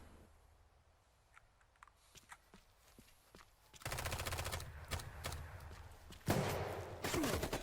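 Zombie-apocalypse shooter The Day Before: scattered faint shots and steps at first, then a loud stretch of rapid gunfire bursts and impacts that continues to the end, up close.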